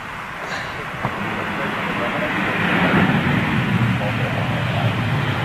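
A jet aircraft roars at Amsterdam airport, a broad, loud rumble that builds after the first couple of seconds and holds steady, with voices faintly beneath it.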